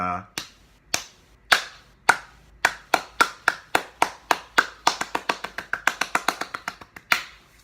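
Sharp hand claps in a steady beat, spaced evenly at first and then coming twice as fast, close and crisp with no talking.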